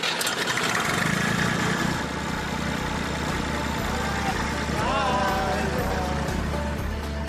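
A classic tractor engine, near and loud, rumbles steadily at idle throughout with a low, even chug, while people talk briefly over it.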